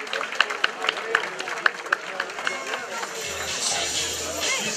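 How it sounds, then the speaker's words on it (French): Crowd applause and scattered clapping for a cyclist at a race podium at the Kreiz Breizh Elites stage race, fairly distant and thin, building into a steadier wash of claps toward the end. "Vous pouvez l'applaudir une nouvelle fois"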